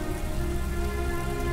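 Constant heavy rainfall from the video game Heavy Rain, a thick steady rushing hiss filling the whole moment without any talk.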